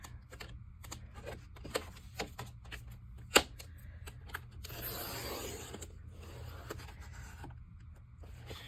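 Paper being trimmed for a waterfall folio with a paper trimmer, a series of sharp close clicks and taps followed by a longer sliding cut, quiet, with no talking.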